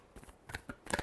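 A final quick shuffle of a tarot deck gives a few short, crisp card flicks close by, over in about a second.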